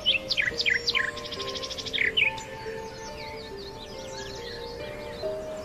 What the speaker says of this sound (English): Keats imagines the birdsong echoing through time.